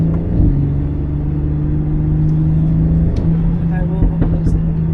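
A BMW X3 M40i runs with a low engine rumble and steady drone from the intake while being driven, loud and close, with brief bumps and faint chatter in the background.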